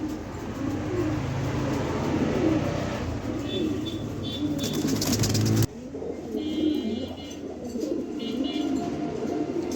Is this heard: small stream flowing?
no